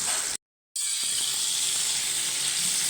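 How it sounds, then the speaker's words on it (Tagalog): Chicken marinated in black pepper, paprika and salt fries in a pan with a steady, close sizzling hiss, briefly cut to silence before it resumes. "Iprito lang natin ito yung bagya guys"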